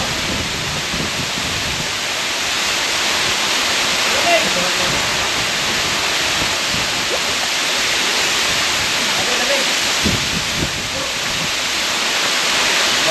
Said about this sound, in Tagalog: Ayan yung second falls.